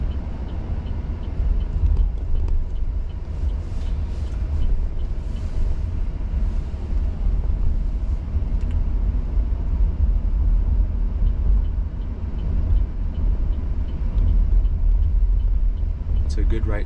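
A Cruise driverless car drives along Divisadero Street on a busy night, a steady low road rumble and engine drone filling the cabin, with faint clicks and a brief sharper sound near the end.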